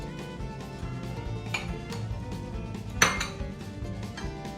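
Grated onion and sweet corn being stirred together in a bowl with a utensil, giving a steady run of soft scraping and clinking, with a sharper spoon-on-bowl clink near the end.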